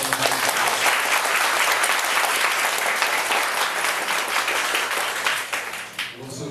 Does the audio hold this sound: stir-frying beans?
no